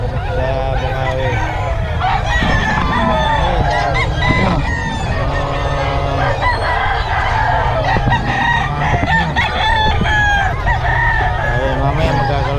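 Many roosters crowing over one another amid constant clucking and squawking from a crowd of fowl at a gathering in Bocaue, loud and busy throughout.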